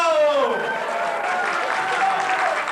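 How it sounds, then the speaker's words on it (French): An audience breaks into applause at a bakery gathering, a short, steady burst of clapping with voices mixed in. "Applaudissez-moi!"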